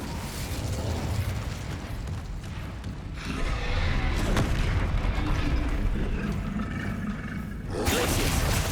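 A fire spell bursts out in Hogwarts Legacy, a loud roaring, explosive whoosh that rumbles on for several seconds amid continuous magical combat noise, with a fresh blast near the end.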